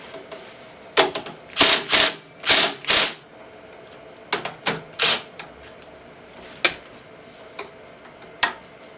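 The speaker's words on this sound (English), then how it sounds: "So we're going to do a tool change." CNC mill on a PM-25 doing a tool change: a string of loud, close mechanical clacks and ticks, first in quick bunched groups, then sparser single knocks over a low steady hum.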